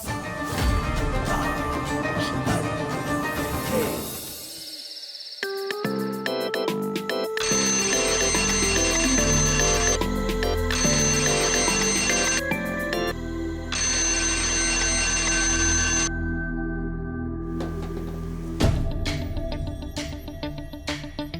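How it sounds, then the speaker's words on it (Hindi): An alarm clock set for 4 a.m. rings in repeated bright electronic bursts, loud and close, with tonal music and other sounds around it. "तुमने ही 4 बजे का अलार्म लगाया था ना"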